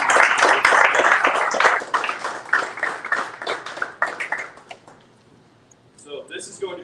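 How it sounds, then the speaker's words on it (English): An audience at the Winston-Salem Dash minor league baseball team's rebrand announcement claps in a dense burst that thins out and fades over several seconds before a voice starts speaking. "So give a round of applause for Jake coming out here."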